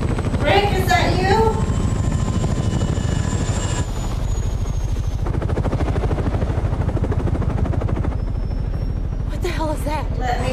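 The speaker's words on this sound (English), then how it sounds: "They're gonna try to steal the helicopter." Helicopter in a Fear The Walking Dead episode, its steady rotor thrum running under dialogue and dramatic score, with people speaking at the start and end.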